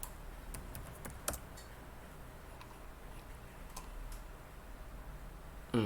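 Sparse, light clicking of keys on a computer keyboard, a few quick taps then scattered single presses against a low, steady background hum, heard close and fairly quiet.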